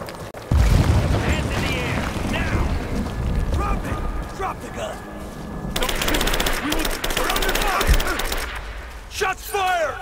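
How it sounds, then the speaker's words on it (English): Gunfire in the PC game Rise of the Tomb Raider: dense, rapid bursts of shots, heaviest in the second half, mixed with busy game effects and voices talking throughout. "Shots fired! Shots fired!"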